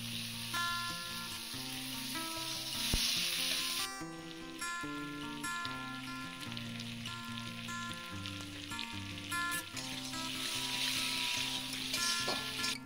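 Boiled potato tossed with chili powder sizzles in a hot pan while being stirred, with a steady frying hiss, occasional scraping strokes and loud background music playing throughout.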